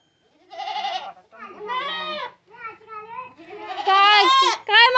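Goats bleating in a village farmyard while fed fodder, a run of loud, close, wavering bleats one after another, with children's voices faintly mixed in.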